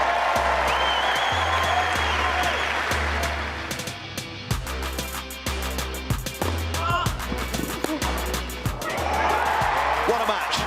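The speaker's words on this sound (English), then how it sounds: "Standing ovation on court two" A tennis crowd on court two at Wimbledon gives a standing ovation after a match. Sustained applause and cheering fill the stadium, with lower steady tones and other noise running beneath the crowd throughout.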